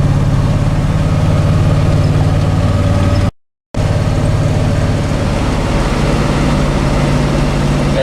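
A 1957 Chevy 210 with an exhaust leak idles steadily and close by, a low rumble with a rapid ticking pulse, briefly interrupted by a gap of silence.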